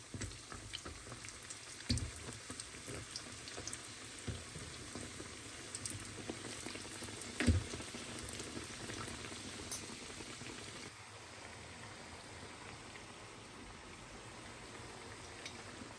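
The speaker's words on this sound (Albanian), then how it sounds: "Vaj është nxehur edhe tashti i qesim pra llokumat një nga një që pjeket." Llokuma dough balls fry in hot oil, a continuous soft sizzle and bubbling like light rain with a few sharper pops, fairly faint and without talk.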